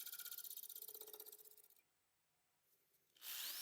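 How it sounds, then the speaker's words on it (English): A light shear scrape on wood spinning on a lathe while turning firewood, a loud rhythmic rasping that fades into near-silence before a burst of bright, close noise returns. "So I'm making a really light shear scrape"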